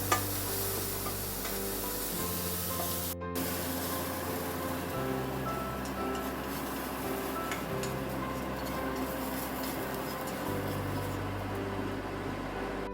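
Vegetables stir-fry in a pan with red chili paste, producing a continuous close sizzle with scraping stirring strokes throughout and no one speaking.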